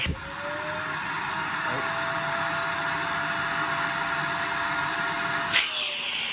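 A Perfect C105B canister vacuum cleaner runs with a steady high whine and rushing airflow, close and constant, then cuts off abruptly near the end with a clunk as the motor winds down.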